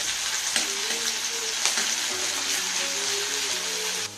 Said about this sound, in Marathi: त्यात आपण लसूण, अद्रक आणि मिरची टाकून 2 मिनिटं लो फ्लेमवर परतून घेऊया।